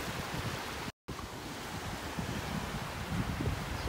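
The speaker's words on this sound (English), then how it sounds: "just watching the waves rolling in" Small waves under a foot high roll in on a beach in North Naples, Florida, giving a steady soft wash of surf with light wind noise, continuous apart from a brief dropout.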